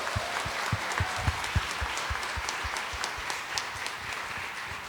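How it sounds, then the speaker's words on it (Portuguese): A church congregation claps during a Catholic Mass homily. The applause is steady and moderately loud, with individual claps standing out against a busy wash of hands. "pode aplaudir."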